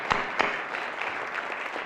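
An audience claps at a community welcome gathering, a few sharp claps near the start thinning into light, scattered clapping at moderate distance.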